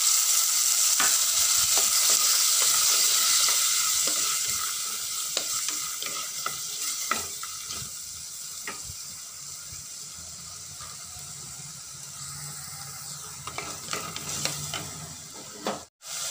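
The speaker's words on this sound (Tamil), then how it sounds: "லைட்டாக சீரகம் பொரிஞ்சதும் தக்காளி சேர்த்துக்கலாம்." Tomatoes sizzle and fry in hot oil with cumin seeds for a tamarind-lentil rice dish, a steady crackling hiss stirred now and then, easing quieter over time, with no voices.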